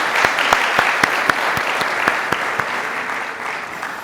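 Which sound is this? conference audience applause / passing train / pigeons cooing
conference audience applause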